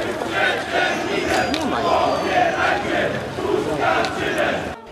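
Dense crowd of marchers at a street march for free media in Lubin, Poland, with voices chanting and calling out together in loose rhythmic swells, steady and fairly loud throughout.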